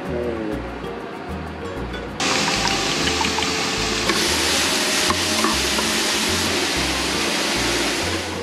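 Mushrooms frying in a pan aboard a boat at sea, a loud steady sizzle that jumps in intensity partway through, over a low rhythmic rumble of the boat and water.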